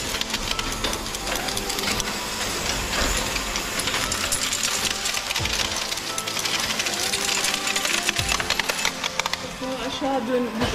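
Old newspaper printing press running in a historic print shop, a dense continuous mechanical clatter with rapid rhythmic ticking and rattling, close and loud, with occasional voices under it.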